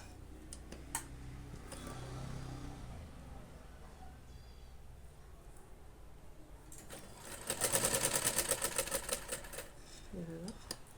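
A sewing machine runs a stitch line across fabric for a decorative tassel (latkan), a fast close mechanical rattle that swells for a few seconds after lighter handling sounds, with a voice speaking before it.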